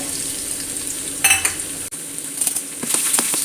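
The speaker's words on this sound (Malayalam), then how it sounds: "ഒരു പാത്രത്തിലേക്ക് വെളിച്ചെണ്ണ ഒഴിച്ചു കൊടുത്തിട്ടുണ്ട് അതിലേക്ക് ഒരു സ്പൂണോളം വെളുത്തുള്ളി ചതച്ചതും ചെറിയൊരു കഷ്ണം ഇഞ്ചി ചതച്ചതും ഇട്ട് കൊടുക്കുന്നുണ്ട്" Crushed garlic and a small piece of crushed ginger sizzle in hot coconut oil, a steady frying hiss broken by brief clinks and scrapes of a spoon against the pan, close and without voices.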